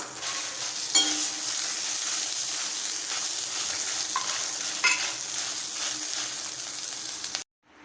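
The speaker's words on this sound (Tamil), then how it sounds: "லேசாக மிளகா ரோஸ்ட் ஆனாலே போதும் ரெண்டு நிமிஷத்துக்கு மட்டும் வறுத்தாலே போதும்" Red chillies and salt dry-roast in a kadai, giving a continuous dry hiss with a few sharp clicks and scrapes from stirring, then stopping abruptly into silence at the very end.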